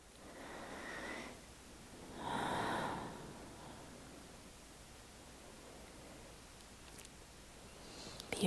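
Slow, deep breaths in a quiet yoga session for stress relief, two soft broadband swells of inhale and exhale near the start, then a long hushed stretch with faint room noise.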